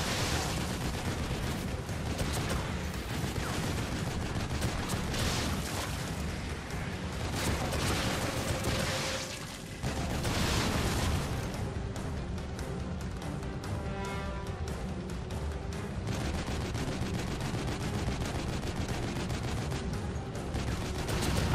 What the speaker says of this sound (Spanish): Vamos, vamos, ametralladora.